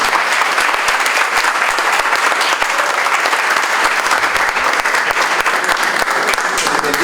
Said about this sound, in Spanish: Un aplauso especial, por favor, para el maestro.